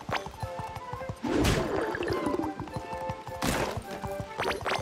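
Steady clip-clop of horse hooves at a quick, even pace in SpongeBob SquarePants: The Cosmic Shake, with a couple of louder whooshing swells and occasional whinnies.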